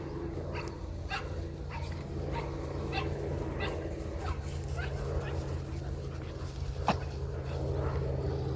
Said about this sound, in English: Got a puppy back there. He's in his cage because he's getting picked up